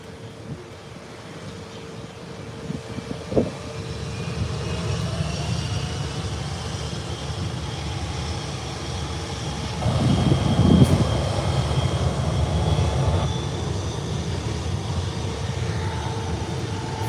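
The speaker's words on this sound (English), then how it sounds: "here you have American Airlines rolling into the taxiway now" American Airlines airliner taxiing at Howard Hamilton International Airport, a continuous low engine rumble and whine with rising tonal hums, swelling louder midway, mixed with wind noise.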